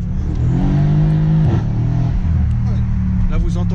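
A Mercedes C63 S with a modified exhaust revs close by, a steady throaty engine drone that climbs and settles across a few seconds, with someone talking over it.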